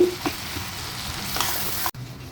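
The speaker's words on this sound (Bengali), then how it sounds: "পেঁয়াজটা একটু লাল লাল করে ভেজে নেব" Chopped onion and green chilli fry in a pan with dry red chillies and bay leaves, a steady sizzle with brief stirring scrapes, near and without talk, cutting off abruptly near the end.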